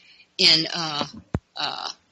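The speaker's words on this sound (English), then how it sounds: "My dog the little puppy is pulling on my cord here." A little puppy growls and whimpers while tugging on a cord, with short close bursts of sound broken by pauses and a brief sharp click in between.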